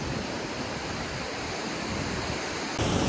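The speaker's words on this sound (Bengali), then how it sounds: "এখন মনসুন না, তাতেই এরকম জলের ফোর্স।" Water rushes hard over rocks in a stream outside the monsoon season, a loud, steady broadband roar heard close up that swells slightly near the end, with no voices.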